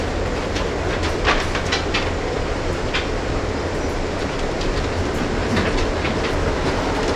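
Amtrak Coast Starlight passenger train rolling along the rails, a continuous rumble with rhythmic clickety-clack from the wheels over track joints, heard from on board at a steady moderate level.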